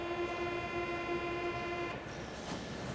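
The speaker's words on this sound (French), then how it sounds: "T'as une ambiance de métro parisien." Paris metro ambience: a steady tonal train hum over low rumble from the carriages, shifting into rattling, hissing noise in the last second, with no one speaking.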